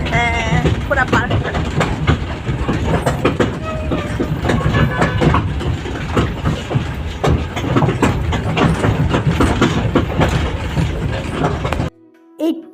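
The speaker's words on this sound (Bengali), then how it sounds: "এই টয় ট্রেনটা কিন্তু নতুনই হয়েছে, আগে ছিল না।" A newly added toy train running through Mal Udyan park, its engine giving a continuous chugging rumble with rhythmic clatter close by. Voices talk over it until the sound cuts off near the end.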